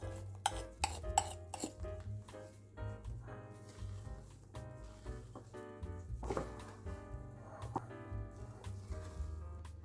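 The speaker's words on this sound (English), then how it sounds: "You just want to fold it until it's just about incorporated and we have a nice thick fluffy cake batter." A spatula scrapes and taps against a bowl while egg whites are folded gently into a thick cake batter for tarts. The soft clinks and scraping sounds come close and quiet in an uneven rhythm.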